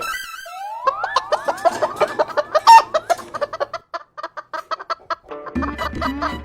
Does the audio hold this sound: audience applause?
no